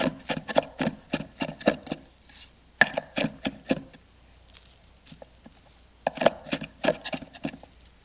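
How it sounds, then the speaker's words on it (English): Fresh oregano, parsley and sage chopped with a knife on a board, quick runs of crisp rhythmic taps broken by short pauses and scattered lighter knocks. "I'm going to chop up some of these herbs now"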